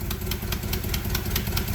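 A Jeep engine idles with a steady low rumble, ticking rhythmically at close range, with no voices.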